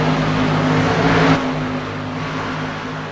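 An Xfinity stock race car at Auto Club Speedway sweeps into the first turn, its engine a loud steady drone with tonal harmonics that eases off about halfway through as the car enters the corner.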